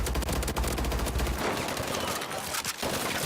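Rapid automatic gunfire fills a match of Call of Duty: Advanced Warfare during target practice against bots, with dense, loud bursts of shots that stop and start in quick succession.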